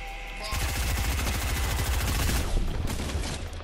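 Rapid automatic gunfire from a video game, a dense continuous burst of shots starting abruptly and rattling on for about three seconds, loud and close.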